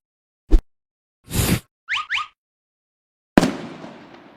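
A New Year firecracker goes off overhead, giving a loud sharp bang with a long fading rumble. Several short pops, whooshes and squeaky bursts come before it, with no voices.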